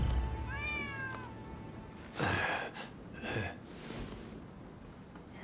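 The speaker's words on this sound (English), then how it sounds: "Who'd have thought a stray cat would wander in?" A stray cat meows in the video game Rise of the Ronin, a few clear, fairly close mewing calls over a low game-ambience bed, followed by breathy gasping sounds.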